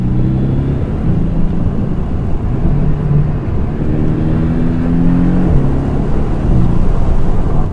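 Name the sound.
Porsche 718 Boxster S engine and exhaust while accelerating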